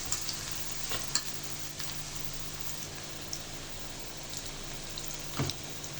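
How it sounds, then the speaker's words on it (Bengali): Cabbage pakoras deep-frying in oil over medium heat, a steady close crackling sizzle with a few sharper pops and spatters throughout, no voices. "মিডিয়াম জাল রেখে পাকোড়াগুলো এই পিট করে মুচমুচে করে ভেজে নিব"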